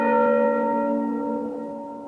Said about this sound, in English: The church bell would be tolling from morning to evening because of so many deaths.